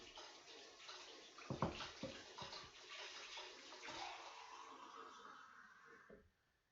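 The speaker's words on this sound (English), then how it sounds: "So I'm just going to add a splash of water." A splash of water is poured from a glass into a jam tart mixture, giving a soft running, bubbling pour in a home kitchen while people talk over it.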